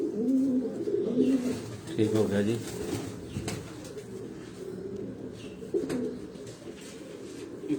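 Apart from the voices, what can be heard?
pigeons cooing on a rooftop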